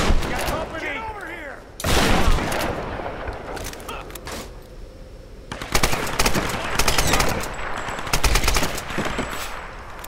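Rapid automatic gunfire from the Tomb Raider video game, with loud repeated bursts and shots spread through the scene alongside in-game voices and other action sounds.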